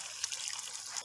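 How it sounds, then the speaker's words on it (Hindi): Water from boiled chickpeas trickles and splashes into a pan of chickpea masala gravy, a faint, brief pour with no talking over it. "अभी जो चने हमने बॉयल किए थे उसका जो पानी है वो इसके अंदर हम शामिल करें।"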